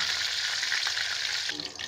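Dense, bright sizzle of cut pointed gourd ends frying in oil, steady and close, easing slightly toward the end.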